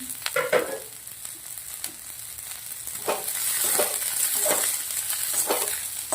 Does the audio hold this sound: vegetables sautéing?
yes